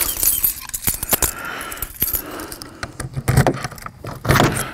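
Keys jangle and clink close by while a double lock is worked on the door of a Trailex CT 84180 enclosed aluminum sports car trailer, with sharp metallic clicks and rattles in uneven bursts.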